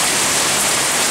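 Heavy rain falling steadily, a dense unbroken hiss of drops hitting surfaces, loud and close with no voices.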